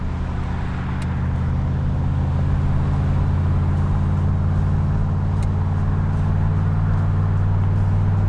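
A 1967 Corvette convertible with a 355 rear end and reproduction redline radials cruises in third gear. Its low engine drone is steady and smooth, heard from inside the car with no talking.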